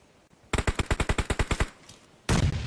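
Automatic weapon fire in the PUBG Mobile battle royale game: a rapid burst of about a dozen evenly spaced loud shots, followed after a short pause by a dense, sustained blast of gunfire noise.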